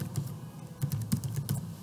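Typing a password on a computer keyboard gives about eight quick, close key clicks in an uneven rhythm, with no talk.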